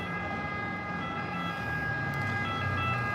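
A wailing emergency vehicle siren sounds on a street in Rome near Piazza Farnese, steady and fairly loud over the hum of city traffic.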